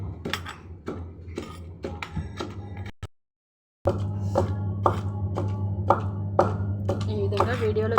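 Ridge gourd chutney pounded by hand in a mortar, with a steady run of sharp, close thuds and clinks at a regular rhythm, broken by a short pause before resuming, over a constant low background hum.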